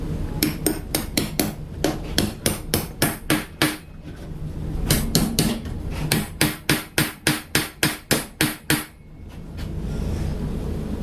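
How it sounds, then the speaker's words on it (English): A hammer pounds bolts into a steel exhaust fan in two bursts of about a dozen sharp, ringing metallic blows each, loud and close, with a short pause between the runs and a steady background hum. "You gonna put a nut and washer on them as I pound them in?"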